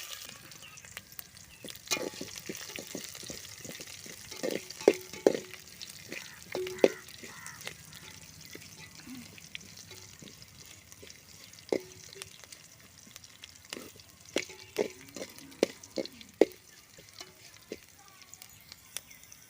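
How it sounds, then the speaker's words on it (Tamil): Onions stirred in a pan where cumin has been frying until darkened, with a steady soft sizzle and scattered clinks and scrapes of a spoon, fairly quiet, crows cawing faintly in the distance. "வெங்காயம் சேர்த்துக்கலாம் வெங்காயமும் வச்சு இப்போ நல்லா கிளறி விட்டுடலாம்"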